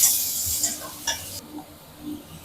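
Onions and curry leaves frying in hot oil in a pan for a diabetic-friendly Tamil dish, with a bright sizzle and a few close scraping stirs that fade quickly.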